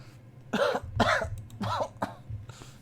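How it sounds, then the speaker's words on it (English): A voiced character in the English dub of the Tsukihime PC game coughs in three rough bursts, with a short throat-clearing catch after them, close and clear over a low hum. "I clasp my knees and cough"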